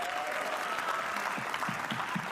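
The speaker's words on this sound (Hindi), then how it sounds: "एक बार ताली बजाओ यार तुम लोग" Audience at a comedy roast breaking into brief, moderately loud clapping from a crowd of listeners, with a few soft voices underneath.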